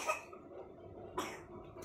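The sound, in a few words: a girl coughing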